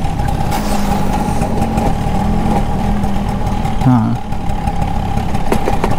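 A 1985 Bajaj Chetak scooter with stiff gears, its engine running steadily up close with a constant mid-pitched hum and a brief shift midway, while a voice speaks over it.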